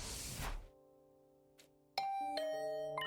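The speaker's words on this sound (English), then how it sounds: "Is that my doorbell?" A two-tone ding-dong doorbell chime from The Hundred Line: Last Defense Academy rings clearly and alone, its bright tones sustaining and ringing out after each strike.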